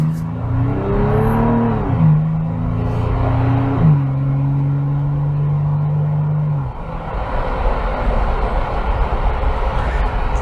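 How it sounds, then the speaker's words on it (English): A 2022 Toyota 4Runner TRD Pro's 4-liter V6 drones steadily while driving in traffic, its pitch rising and shifting through gears, loud and close with road noise underneath. "I like the sound of this V6. It's a big V6. It's a 4-liter V6."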